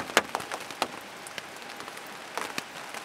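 Rain outside along Chile's Carretera Austral: scattered drops tap and ping irregularly on a nearby surface over a quiet background, a handful of sharper hits standing out amid fainter patter.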